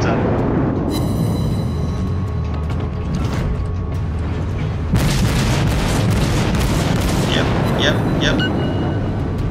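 Heavy cruiser gunfire in World of Warships from a Kuma Tier IV Japanese cruiser, a sustained roar of booming broadside salvos and shell hits with sharp cracks, loud and dense, with a brief spoken word.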